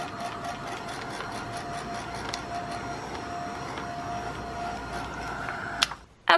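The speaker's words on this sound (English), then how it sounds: "So now I'm going to dry it with my heat tool." A handheld craft heat tool blows a steady whirring hum with a faint high whine while drying paint in an art journal, continuous and close, cutting off abruptly near the end after a brief clatter.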